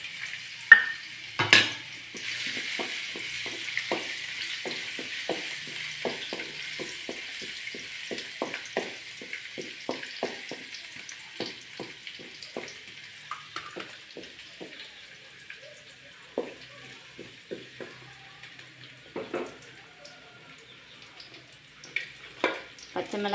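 Finely chopped garlic frying in hot oil for homemade chicken noodles, a continuous bright sizzle broken by frequent crackling pops and spoon clicks, close and fairly quiet with no talk.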